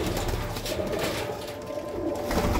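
A few Teddy pigeons coo in low, rolling murmurs close by, steady and overlapping over a constant background hum.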